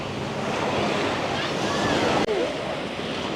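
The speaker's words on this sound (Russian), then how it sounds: "И волна достаточно сильная." Strong waves wash onto an island shore on Ko Larn near Pattaya, a steady, loud broadband surf roar mixed with wind buffeting the microphone, with a brief dip partway through.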